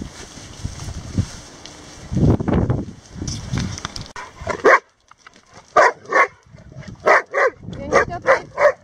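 A dog yaps and barks in quick, sharp bursts, close by, mixed with whimpers and some people talking over the noise.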